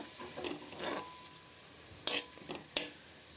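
Onions and green chillies frying in a pan for chicken biryani, a soft steady sizzle with scraping stir strokes and a few sharp clinks near the end.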